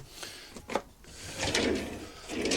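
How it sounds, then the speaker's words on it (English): Soft-close drawers slide out and glide shut in a caravan washroom, giving a few soft rolling and sliding sounds with light knocks in a quiet interior. "And then down here, pull out drawers. They've got the soft clothes on them"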